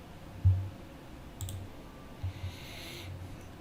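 Mouse click on a save button in accounting software, heard as a few soft, isolated clicks spaced over several seconds against a low, steady room hum.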